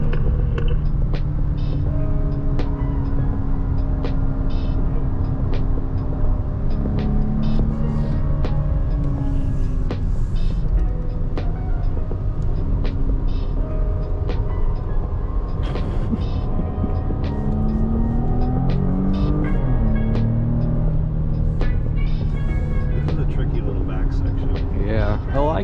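A Porsche driven on a race track at a driving experience, its engine a continuous loud drone with rising and falling pitch sweeps as the car accelerates and shifts, while people talk throughout from inside the cabin.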